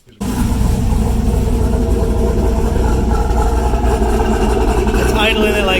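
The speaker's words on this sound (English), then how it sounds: "It's idling at like 900 right there." A car engine idles steadily at about 900 rpm in a closed-loop system, a loud continuous low rumble running throughout with voices talking over it.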